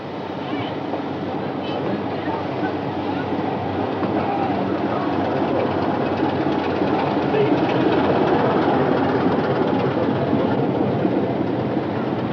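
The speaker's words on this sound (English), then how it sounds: "the steam train has to wait to cross the regular diesel-hauled one" A steam train rolls along a single-track railway line in Scotland with a continuous heavy rumble and clatter that swells slightly midway, steady throughout.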